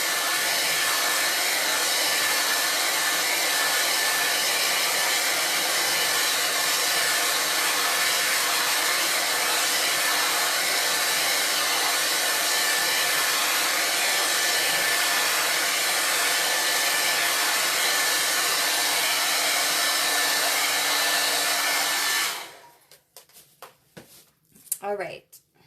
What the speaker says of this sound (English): first I want to blow dry that off a little bit